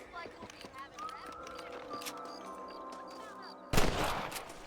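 Rifle fire at rabbits in Red Dead Redemption: faint scattered rustling and game ambience, then one sharp, loud gunshot near the end with a booming tail, with talk in the scene.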